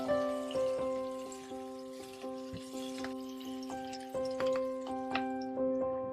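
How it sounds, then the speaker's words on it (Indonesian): Steady sizzling of onions frying in hot oil until golden brown, with scattered pops and crackles over a constant hiss, fairly close and moderate in volume. "Panaskan minyak secukupnya, kemudian goreng bawangnya sampai kuning kecoklatan."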